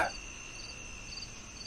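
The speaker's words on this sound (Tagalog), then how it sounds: "Tanging kuliglig at mga panggabing insekto na lamang ang maririnig mo." Crickets and night insects trilling steadily at night, a continuous high shimmering chorus under quiet background, moderately faint.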